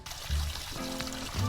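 Tap water pouring steadily into a sink in a Roblox game, a continuous close splashing rush with a few brief tonal game sounds over it.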